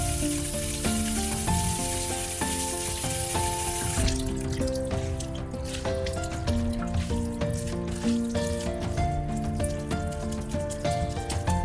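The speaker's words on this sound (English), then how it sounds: "Now you want to rinse it with cold water." Cold tap water runs steadily over cooked ramyeon noodles in a sink, a loud continuous rush and splash that holds at a constant level, with no one talking.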